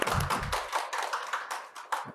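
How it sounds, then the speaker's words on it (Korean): Hands clapping briefly at the start of a Korean real estate law lecture, a few close claps under a loud room presence. "자, 박수 한번 치고."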